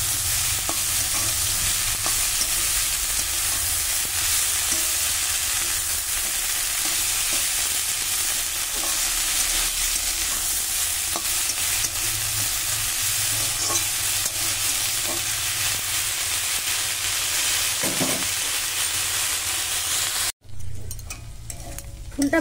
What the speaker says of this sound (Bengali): এবার আমি ফুলটা দিয়ে সুন্দর করে ভাজবো